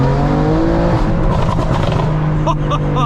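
Loud in-car engine drone of a 560bhp BMW M3 on the move, steady tones rising and shifting with revs, a brief gear-change dip near the end, voices faint underneath.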